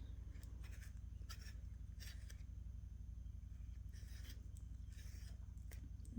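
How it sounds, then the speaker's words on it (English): A nearly used-up brown eyeliner pencil is twisted in a small sharpener, giving soft, rhythmic scraping bursts in a repeating pattern, close and quiet with no talking. "So we're gonna get our pencil nice and sharp."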